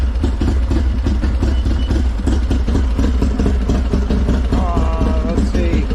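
A Harley-Davidson Softail fitted with Love Jugs idles outdoors in the heat, its engine a loud, steady, close rumble that runs without a break.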